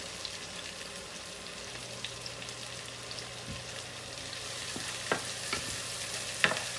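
Ackee and saltfish being stirred and fried in a pan, a soft steady sizzle with scattered scraping clicks of the spoon against the pan, close and fairly quiet, no talk.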